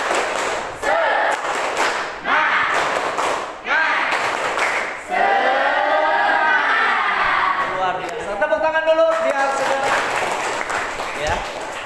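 A classroom of students performs a rhythmic spirit clap in short, patterned bursts, then breaks into a loud group chant and shouting.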